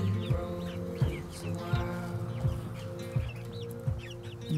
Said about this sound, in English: It's one of the barred Plymouth Rocks.